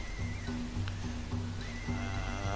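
Horses whinny and neigh over a steady low rumble of massed hooves and battle noise as horse nomads charge in the King of Dragon Pass video game, with several loud overlapping calls filling the whole stretch.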